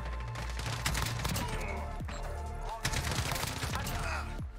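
Gunfire from the K weapon in Modern Warfare, with rapid automatic bursts and sharp shots crackling close by amid game action, at a moderate, steady level.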